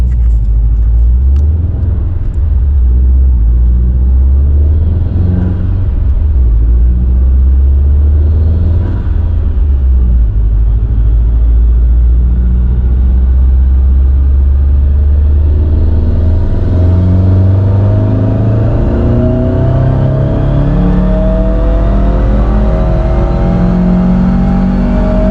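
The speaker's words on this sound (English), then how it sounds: "I'm going to go ahead and bump up our stop on the dyno up to 65, and I'm going to rev the car out" A Subaru STI on a dynamometer is revved out in a long pull, a loud, steady engine drone whose pitch climbs continuously over the run, close and unbroken with no speech.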